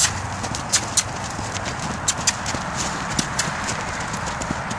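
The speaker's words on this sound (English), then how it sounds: "He's got a nice elevated canter there." A horse on long lines canters over ground in an elevated stride, its hooves thudding in a quick, regular rhythmic clip-clop, close and clear over a steady outdoor hiss.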